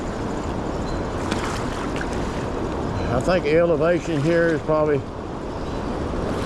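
Steady broadband rush of swift river water flowing over rocks at Sandstone Falls in the New River Gorge, like surf, continues throughout while someone speaks over it partway through.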